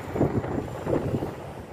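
Wind buffets the microphone outdoors in Dubai in low, gusty rumbles, two stronger pushes rising and falling over a couple of seconds.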